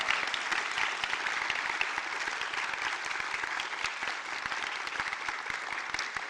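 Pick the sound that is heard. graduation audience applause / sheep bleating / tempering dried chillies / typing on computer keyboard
graduation audience applause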